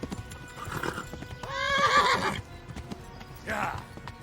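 A horse in the medieval video game Kingdom Come: Deliverance gives a loud, drawn-out neigh over the clatter of its hooves, then a second shorter whinny follows after a brief lull.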